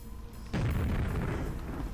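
A grenade from a Minecraft grenade mod explodes in the video game, a sudden loud blast that bursts in after a brief quiet moment and rumbles on as a broad, sustained roar.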